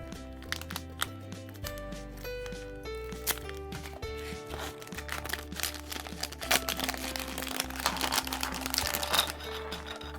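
Packaging for a Sylvanian Families gachapon bakery set is opened with soft crinkling and crackling of plastic and paper, faint and close, with scattered small taps over light background music.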